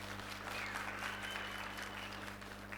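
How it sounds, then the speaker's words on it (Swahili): A seated audience at a youth student gathering in Tanzania claps together, a steady even wash of applause heard from a distance over a low hum, lasting the whole stretch. "Piga makofi kwa ajili ya hilo."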